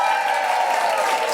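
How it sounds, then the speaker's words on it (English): A live audience at a comedy podcast recording gives a short, dense round of clapping. "Huge round of applause for Bec Hill, Fraser, Ria Lina, Anastasiya A"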